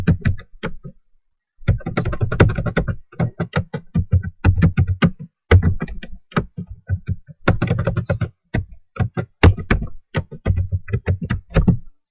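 Fast typing on a computer keyboard, close and steady, with dense bursts of key clicks separated by short pauses, heard alone without talk.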